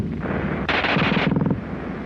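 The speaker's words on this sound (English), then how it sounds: "the German gun fires faster than anything you've run into before" A German automatic machine gun firing a fast burst: rapid, loud, closely spaced shots rattle for about a second before cutting off, heard alone without talk.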